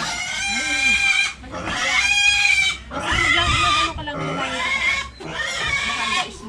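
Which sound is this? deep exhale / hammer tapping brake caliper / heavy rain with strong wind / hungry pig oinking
hungry pig oinking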